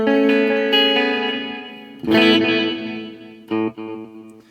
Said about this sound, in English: You get the repeats kind of bouncing off each other and clashing